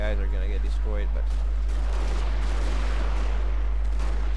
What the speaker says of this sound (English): Yeah, now they're firing